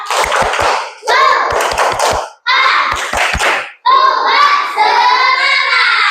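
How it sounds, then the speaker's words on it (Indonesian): A classroom of children claps the 'tepuk semangat' rhythm in loud, close bursts of quick clap groups separated by short pauses, chanting along in unison between and over the claps. "Tepuk semangat."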